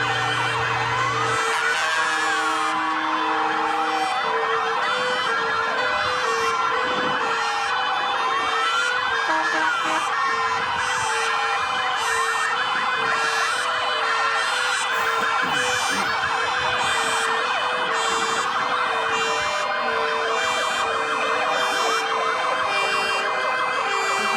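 A fire truck siren wails loud and close in Pelé's funeral cortege in Santos, Brazil. Its rising and falling tones repeat for the whole stretch, with a horn-like blast near the start and a rhythmic pulsing layered over it.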